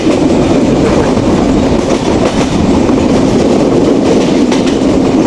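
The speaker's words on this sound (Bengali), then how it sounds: "এই যে আমাদের ট্রেন দুর্দান্ত গতিতে ছুটে চলছে ঢাকার উদ্দেশ্যে" Riding aboard the Madhumati Express from Rajshahi toward Dhaka at speed: a loud, continuous rumble of wheels on rail with a faint clickety-clack rhythm throughout.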